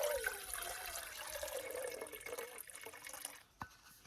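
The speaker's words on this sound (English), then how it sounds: "Pour some water into the jet boil." Water pouring from an old Yeti bottle into a Jetboil stove pot at a Colorado mountain camp, a steady close splashing trickle that thins and stops near the end with a small clunk.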